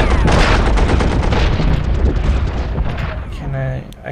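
A fighter attack in the Commander the Great War strategy game, a loud burst of booming gunfire and explosions that fades out over a few seconds, with a voice talking over it.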